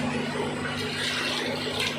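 Water is poured by the bowlful into a cooking pot of chicken nihari, a brief steady splashing gush heard up close with no talk over it.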